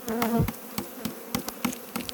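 Honey bees buzz close by while their colony is moved into a new hive box, a steady hum broken by several sharp knocks as equipment is banged into place.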